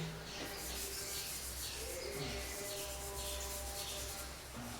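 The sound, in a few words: rubbing knife blade with fine coconut shell powder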